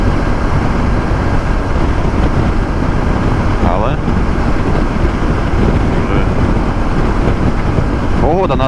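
Heavy, steady wind buffeting a microphone on a motorcycle ridden in headwind and crosswind, a continuous loud roar filling the whole clip with someone talking over it.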